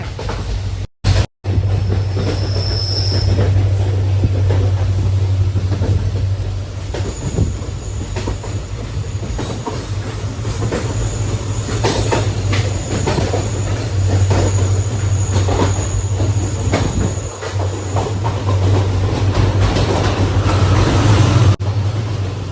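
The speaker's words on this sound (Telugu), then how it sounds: "ఇప్పుడు మళ్ళీ ట్రైన్ అయితే తిరుక్కుని దాని దగ్గరికి అయితే వెళ్ళిపోతుంది." A train runs along the rails on the Goa to Dudhsagar route with a continuous close rumble, a high wheel squeal and rattling clatter.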